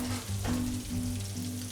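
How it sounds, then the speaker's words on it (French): A fish fillet sears in a hot pan, giving a continuous close sizzle with a low steady hum beneath and a brief rise in crackle as it settles, no one speaking. "Alors là, je prends mon filet. La poêle est assez chaude."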